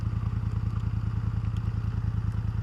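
A Honda Big Red off-road vehicle engine runs in falling snow, its steady, low rhythmic pulsing throbbing close and loud with slight throttle variation throughout.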